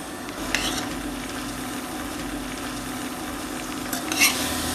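Finely chopped coriander leaves frying gently in oil over a low flame for a chili chutney, a steady close sizzle with light stirring scrapes and a couple of brief utensil clinks.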